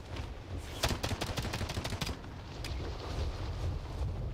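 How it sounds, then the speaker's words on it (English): Gunfire in Call of Duty: Warzone, a quick burst of rapid automatic shots near the start, then a single later shot, all fairly faint against a low rumbling game background. "now we're shooting you"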